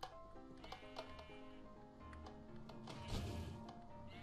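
Sheep bleat in a Minecraft game, several overlapping cries over a busy game soundtrack and effects, fairly close and moderately loud with no talk.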